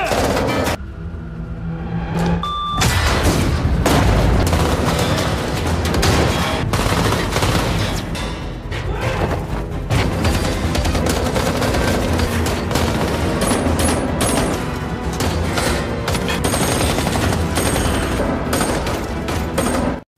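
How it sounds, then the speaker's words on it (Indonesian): Film gunfight with sustained machine gun fire and rapid volleys of shots, loud and dense throughout, with booms and impacts mixed in and a narrator speaking over the action. "Dan terjadilah baku tembak di antara mereka."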